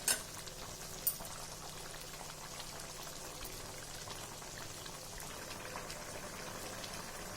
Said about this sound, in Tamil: ஒரு 5 நிமிஷம் நல்லா கொதிச்சுதுன்னா சுவையான மீன் குழம்பு நமக்கு ரெடி ஆயிடும்